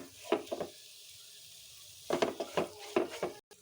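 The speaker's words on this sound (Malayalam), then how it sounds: "ഇനി ഇത് നല്ലതുപോലെ ഒന്ന് ഇളക്കി യോജിപ്പിച്ചെടുക്കാം." Boiled chickpeas being stirred into masala in a pan, with a low sizzle under a short burst of spoon clinks, a pause, then several more rhythmic scraping clinks.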